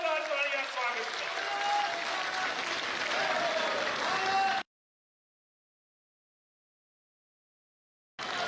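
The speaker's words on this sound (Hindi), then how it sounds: "जोरदार तालियां स्वागत करें।" A crowd at a BJP political rally welcoming Nayab Saini bursts into dense, loud, steady clapping for about four and a half seconds, with faint voices underneath, then it cuts abruptly to silence before a brief return at the end.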